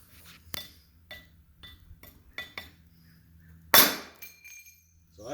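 A Fiskars 18-inch hatchet chops into a small piece of steel, a single sharp ringing metallic strike after several quieter knocks and clinks.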